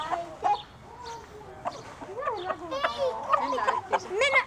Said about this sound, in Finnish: Täällä on kanoja.